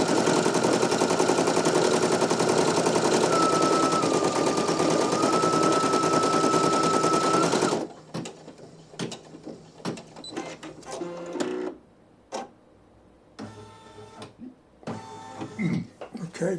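A Brother PE900 embroidery machine runs close by at a fast, rapid-fire mechanical rattle with a high whine for about eight seconds, then stops, followed by scattered clicks, thread pulling and handling noises.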